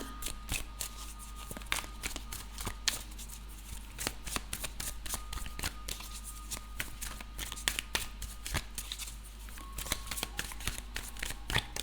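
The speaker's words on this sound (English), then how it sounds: "let's mix it up together with the in-between tarot" Tarot cards are shuffled by hand in quick, close riffles and slaps, a steady run of crisp papery bursts with no talk over them.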